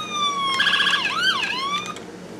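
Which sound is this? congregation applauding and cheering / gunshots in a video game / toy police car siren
toy police car siren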